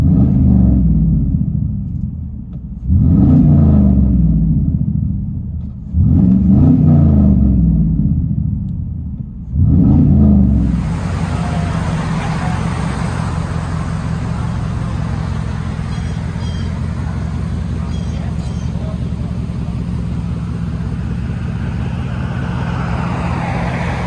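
A 2002 GMC Yukon with a 5.3L V8 on straight-piped true dual exhaust, recorded from inside the cab: three or four loud revving bursts, then a steady deep rumble that holds at idle or cruise for the rest of the clip.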